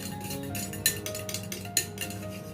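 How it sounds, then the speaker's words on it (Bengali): A drink is stirred with cold water mixed in, and a spoon clinks against the glass in a few light, bright taps over soft, steady background noise. "এর মধ্যে আগে একটু ঠান্ডা জল মেশাই এবারে এটাকে গুলে নিই একবার"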